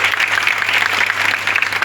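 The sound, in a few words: audience applause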